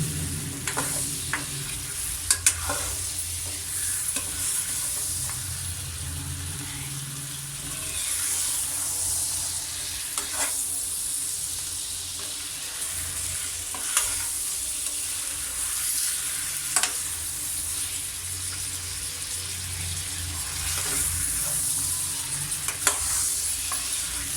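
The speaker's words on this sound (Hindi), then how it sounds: "अच्छी तरह भून लेंगे हम चिकन को।" Chicken sizzles and fries steadily in a hot pan, with scraping stir strokes and occasional clinks over a continuous hiss.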